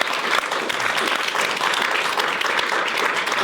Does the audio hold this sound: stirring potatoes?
no